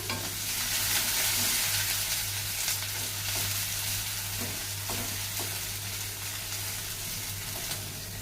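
Jackfruit seed curry sizzles steadily in a hot pan while being stirred, a constant close frying hiss with a few soft scraping strokes and a low steady hum underneath.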